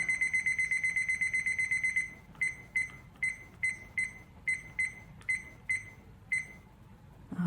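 An electronic timer beeps rapidly in a continuous run, then switches to spaced double beeps repeating steadily, close and fairly loud.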